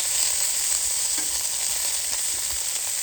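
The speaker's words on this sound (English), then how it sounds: "Gonna do another turn as with caramelized onions." Onions caramelizing on a four-burner Callow gas plancha grill, a steady, dense, bright sizzle that holds even and close throughout, with no voices.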